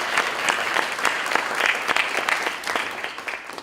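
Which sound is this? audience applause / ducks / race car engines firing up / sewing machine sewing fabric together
audience applause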